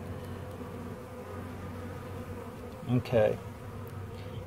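Honey bees hum steadily in a hive during a warm-day health check, a dense continuous drone with brief louder bursts near the end, and one short spoken word partway through.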